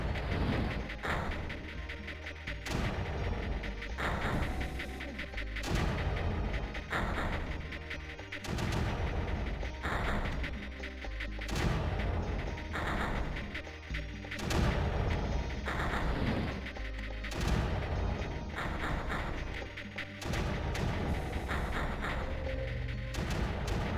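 Mortars and blasters in the Creeper World strategy game fire in a steady, repeating stream of sharp thuds and booms that keeps going the whole time over a dull background hum.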